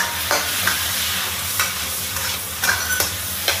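Pork belly is stir-fried in a wok with aromatics after a splash of rice wine and soy sauce, loud continuous sizzling with a spatula scraping and clinking against the metal several times.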